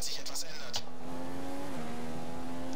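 Formula 1 car engine in the F1 2015 racing game, Shanghai, China qualifying, holds a steady whine as it drives into the pits, with a few clicks at the start.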